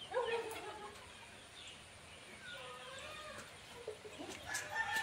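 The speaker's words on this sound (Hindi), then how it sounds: "बारिश में देखो कैसे मुर्गियां कैसे दौड़ रहे" Chickens cluck and call in the rain as they run about, with scattered overlapping calls close by over steady rain hiss, and people talking faintly in the background.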